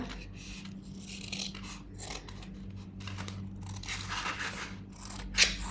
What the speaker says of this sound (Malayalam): ഇതുപോലെ അങ്ങ് കട്ട് ചെയ്യാം